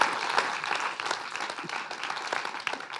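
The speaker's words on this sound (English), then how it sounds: "which also deserves a round of applause." A crowd at a public gathering applauds, a dense spread of clapping heard at moderate volume from within the audience, with a few louder individual claps standing out.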